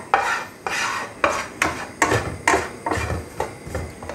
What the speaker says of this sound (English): I'll turn the heat up a little bit just to melt the butter and let that start to cook a bit